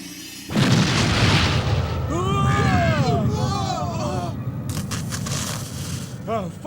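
A booming fire-spell explosion from an anime film: a sudden loud burst followed by a long roaring, crackling rumble, with sweeping tonal effects and babble-like noise layered over it.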